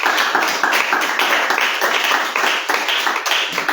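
A church congregation applauding together, dense and steady clapping from many hands, loud and continuous throughout with no voices standing out.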